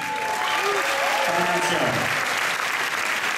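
An audience applauds in a theater at a film world premiere during a festival midnight screening, a steady wash of clapping lasting a few seconds with a voice speaking over it.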